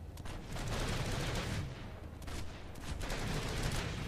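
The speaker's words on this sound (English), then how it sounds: "I'm going to dump about 10 bullets here and not counter the recoil" A sustained burst of automatic gunfire in the video game PlanetSide 2, rapid shots running together into a dense rattle with a brief dip midway before resuming, steady and fairly quiet overall.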